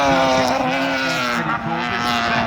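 A rally car in the King of the Hill 2022 event drives toward a southern hairpin, its engine a loud, close, sustained drone with a slight dip in pitch near the end, with wind noise.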